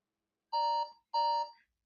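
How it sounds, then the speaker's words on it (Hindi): A countdown timer sound effect gives two identical electronic alarm beeps in quick succession, loud and clean against silence. "और ये भाई आपका 10 सेकंड का टाइमर शुरू हो गया है।"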